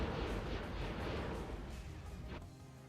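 Torpedoes launched from a spaceship in the space game Avorion, a rumbling series of deep whooshing bursts that swell and fade, ending with a sharp cut to quiet.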